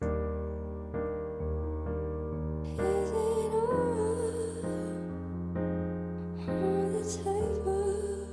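Sustained piano chords change every second or so in a steady progression, with brighter upper notes joining partway through, played alone with no talking.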